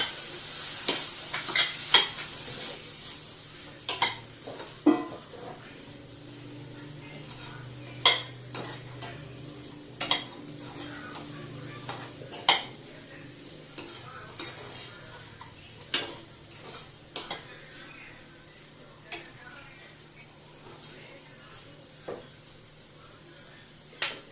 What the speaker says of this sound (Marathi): हा मसाला मी आता खिचडीत टाकते आता छान परतून घेऊया